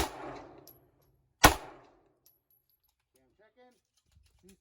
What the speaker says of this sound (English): He's gonna shoot my FNS 9, bro.